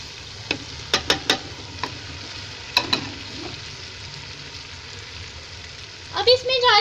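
Dry chana dal lentils drop into a cooking pot while making harees, giving a few light rattling clicks, then a brief close sizzle at the end.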